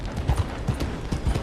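Horse hooves in Red Dead Redemption 2 clop in a quick, even rhythm, close and steady throughout.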